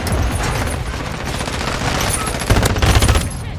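Sustained gunfire in Call of Duty: Modern Warfare II, dense rapid bursts of automatic shots running throughout, growing louder and heavier toward the end.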